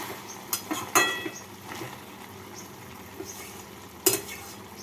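Fried shrimp and three slit green chillies get stirred in a pan of spinach ghonto, with a few sharp utensil scrapes and clinks against the pan over a low background, then one more clear knock near the end.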